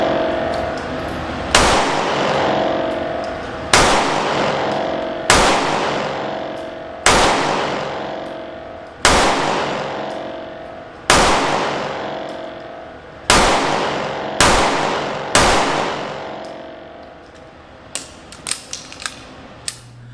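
A Smith & Wesson Shield Plus 9mm pistol fires about nine sharp, loud shots at an even pace roughly two seconds apart, each ringing out briefly, followed by a few light mechanical clicks.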